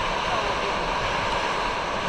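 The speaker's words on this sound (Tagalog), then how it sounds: "Dito mga viewers, di natigil ang alon." Surf at a La Union beach in the Philippines makes a steady, loud wash of breaking waves, with constant broadband roar and wind noise and no clear voices.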